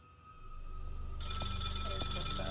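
A telephone rings in a video game: a quiet tone is followed by a sharp ringing bell that starts abruptly and repeats with a rapid rattle, loud and close.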